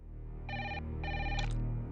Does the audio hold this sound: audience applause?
no